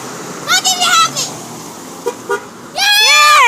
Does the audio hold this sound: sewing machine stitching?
no